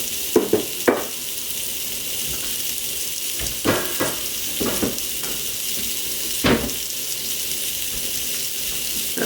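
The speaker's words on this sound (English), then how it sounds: "Time to cook burgers. Well, little teeny burgers. And my grill pan is at sort of a low medium" Small burger patties fry on a grill pan over low-medium heat, giving a steady soft sizzle with a few sharper pops and scrapes close by.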